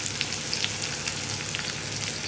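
Onions and salt sizzle steadily in a pan, with no talking. They are being cooked down for a Kerala moru curry with okra and tomato, and the frying hiss stays soft, even and close throughout.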